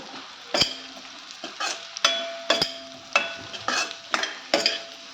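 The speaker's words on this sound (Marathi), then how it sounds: "हे जे मशरूमचे तुकडे असे करून आहेत मी ते आता टाकते त्याच्यामध्ये थोडंसं परतून घेते" Mushroom pieces sauté with onion and ginger in a pan, a spatula scraping and clattering in a steady rhythm of sharp strokes over a soft sizzle, close and fairly loud with no talking.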